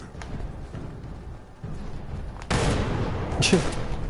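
A grenade blast in Fallout 76 hits with a sudden, loud, close burst that rings on briefly, breaking through a lower bed of background game noise.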